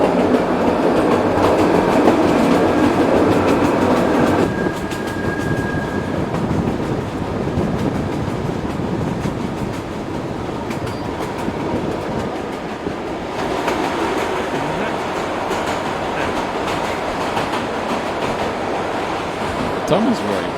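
Train on a mountain railway near Bansko, Bulgaria, rolling along the rails with a continuous loud rumble and rattle, the tone shifting partway through as if entering or leaving a tunnel. Faint voices sit under the noise.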